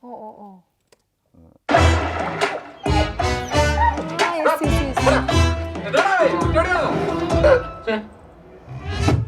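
Loud, busy film sound effects in which dog barks and whimpers blend with wiping and rubbing noises, continuous for several seconds after a brief quiet opening.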